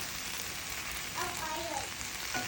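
Sausage and french fries frying in a pan, a dense steady hiss like light rain with faint crackling throughout, moderately quiet.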